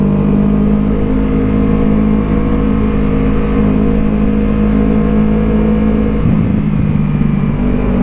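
A Kawasaki Ninja 650 motorcycle engine idles with a steady low rumble, then briefly revs up near the end before settling.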